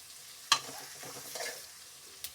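Chopped vegetables fry in tempering oil for paneer fried rice, a soft close sizzle broken by a sharp utensil clack near the start, a few stirring scrapes and another clack at the end.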